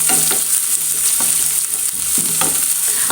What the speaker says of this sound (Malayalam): ഇത് നല്ലോണം വഴറ്റിയെടുക്കാം.